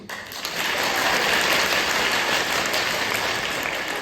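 The women in a theatre audience break into sustained applause, a dense wash of clapping that swells quickly and holds steady.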